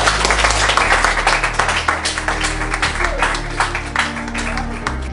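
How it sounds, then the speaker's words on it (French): A class applauds and cheers loudly in a French-language school setting, with dense sustained clapping and crowd noise throughout, voices mixed in. "Ça s'applaudit, ça."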